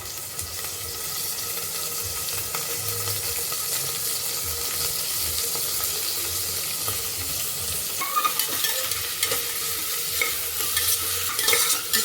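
Mint leaves sauté in a pan for chicken kuruma, giving a continuous close sizzle with occasional stirring scrapes and no talk.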